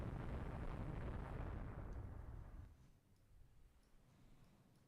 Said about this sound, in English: they're firing on our coastal guns